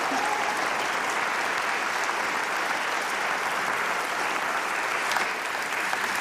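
Applause from an audience at a live-streamed steward-ownership conference: a dense, steady wash of clapping that holds evenly for several seconds without voices on top.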